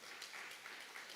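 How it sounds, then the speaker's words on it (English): Applause follows a President's address at a college graduation ceremony, a continuous, faint round of clapping from a crowd, heard alone throughout. "Let's give the President another round of applause"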